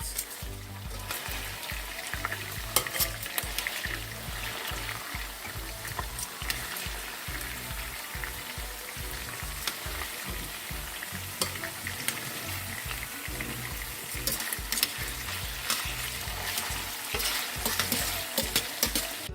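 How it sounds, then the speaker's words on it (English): Pork for Jamaican brown stew sizzles and crackles steadily in hot oil in a pot, with repeated scraping and stirring strokes against the pot throughout, close and fairly loud. "our pork has been frying on the other side for about 12 minutes"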